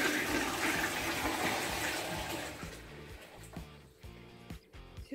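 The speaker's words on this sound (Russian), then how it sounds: "Его надо смывать, да? Давай смоем." A toilet flushes with a strong rush of water that gradually fades into the quieter trickle and gurgle of the tank refilling, heard close up with no talking.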